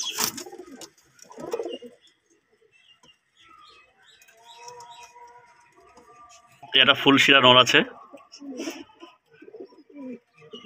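Pigeons coo in a loft where several fancy breeds are kept, with soft calls and a brief burst of flapping wings, heard close under someone talking.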